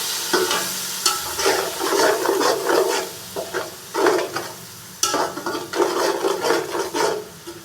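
Spices for a vegetable pulao, with ground black and white pepper and vinegar, stirred in a pan, repeated close scraping and rubbing strokes of a spoon over a faint sizzle, no voices.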